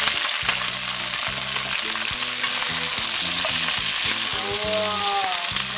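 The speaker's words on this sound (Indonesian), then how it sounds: "kita masukin pak choy." Pak choy stir-fries in a pan with sautéed garlic, making a loud, continuous sizzle and hiss with stirring noises over background music.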